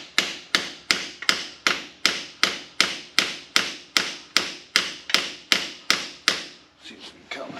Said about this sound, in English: so just kind of tapping it with the brass hammer.